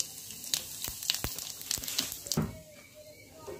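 A bay leaf, a red chili and cumin seeds hit hot oil for a paneer matar curry, giving a steady crackling sizzle broken by sharp pops and ticks.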